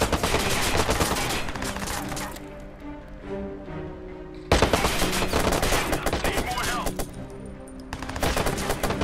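Rapid bursts of automatic gunfire crackle in the video game Watch Dogs, dense volleys broken by a short lull before firing resumes.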